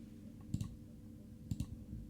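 Two mouse clicks, each a quick double tick, about a second apart, close and quiet while a computer is used, with a faint steady hum behind them.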